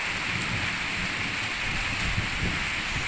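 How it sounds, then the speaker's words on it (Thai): Steady heavy rain with a gusting wind roar, loud and continuous with no voices, during a rainstorm in Phu Sang district, Phayao, Thailand. "ที่ไหนมีฝนที่นั่นก็มีลมครับ"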